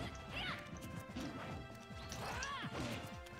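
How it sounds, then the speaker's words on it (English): Forward smash attacks land in a Super Smash Bros match with Donkey Kong, loud repeated crashing impacts and whooshes over game music and effects, several hits spread across the stretch. "We're both just forward smashing."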